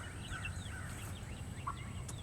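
Several turkeys gobble in a chicken tractor also housing laying hens: a close, loud run of quick warbling calls over a steady low barnyard rumble, with no talking.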